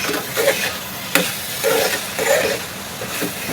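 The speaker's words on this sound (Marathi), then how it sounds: "आपण मिक्स करून घेऊया" A modak filling of jaggery with roasted white sesame and poppy seeds is stirred in a pan, with repeated close scraping strokes and a light sizzle in an uneven rhythm.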